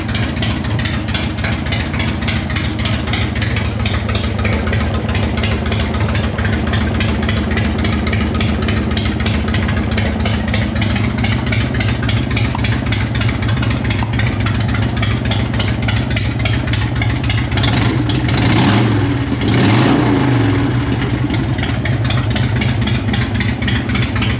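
A Harley Davidson Dyna motorcycle with a newly fixed clutch idles close and loud in a steady, lumpy rumble, with a brief rev swelling near the end before it drops back to idle.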